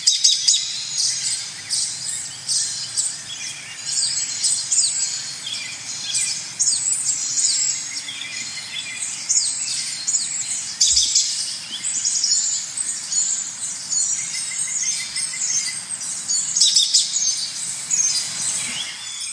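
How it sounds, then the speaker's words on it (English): Backyard garden birdsong: several birds chirping and trilling continuously and fairly close, busy overlapping calls with a faint insect hum underneath and no talking. "just simply listening to the songs of the birds"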